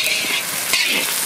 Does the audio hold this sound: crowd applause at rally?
no